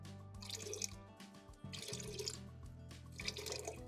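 Apple cider vinegar is poured in three quick splashes during RV cooking of birria meat, each a short liquid gurgle over a steady low background hum.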